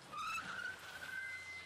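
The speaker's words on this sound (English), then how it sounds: "they came at me with a screeching sound and stomped right in front of me" A car screeches to a stop with a sharp, rising tire squeal that sweeps and then holds as a thin whine for over a second, close and fairly quiet overall, with no voices.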